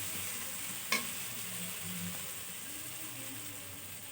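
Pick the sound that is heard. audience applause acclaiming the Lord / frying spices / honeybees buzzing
frying spices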